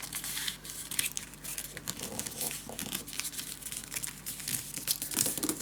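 Paper being folded and creased for a handmade scrapbook mini album, a steady run of close crinkling and crisp rustles with occasional tearing-like scrapes, no speech.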